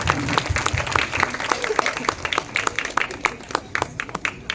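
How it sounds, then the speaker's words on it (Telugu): Crowd applause for a parish priest at a church gathering, a steady burst of many hands clapping close by, with murmured voices underneath. "అందరూ గట్టిగా చప్పట్లు కొడుతూ అభినందనలు తెలియజేస్తాం"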